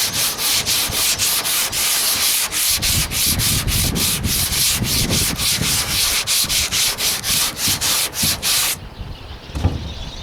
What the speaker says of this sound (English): Board sander took it down quick.